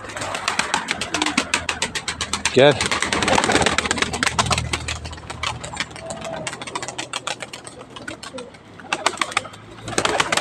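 Pigeons coo repeatedly at a loft, soft throaty calls over a dense rapid flutter and rustle of birds moving close by, while someone speaks and calls out to them.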